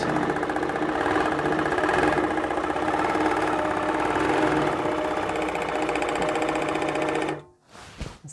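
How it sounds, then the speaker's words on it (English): A longarm quilting machine stitches along a Westalee 6-inch spiral ruler template, producing a loud, steady rapid mechanical hum and needle chatter for about seven seconds before stopping abruptly. "So I'm holding that with my right hand and I'm sewing across myself almost."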